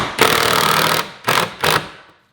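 A hammering power driver bites into a sheetrock wall, with one long, loud rattling burst followed by two short bursts and a quick fade to silence.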